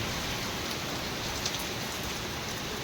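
Heavy downpour driven by gusty wind, with small dense drops lashing down near neem trees in a rural yard, a steady loud hiss that fills the whole stretch with no voices.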